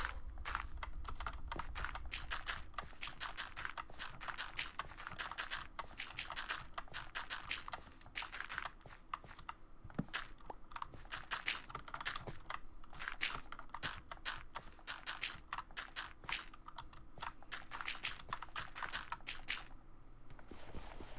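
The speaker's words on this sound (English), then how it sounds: "You can really hear the clacking of the keyboard." A computer keyboard clacks under rapid typing, a dense stream of sharp, close clicks and key taps with brief pauses, loud and dry against a quiet room.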